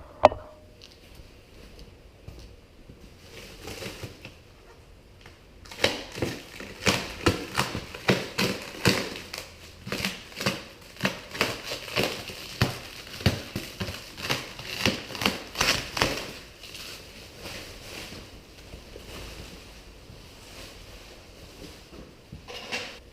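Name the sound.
unwrapping new Bobcat T190 tracks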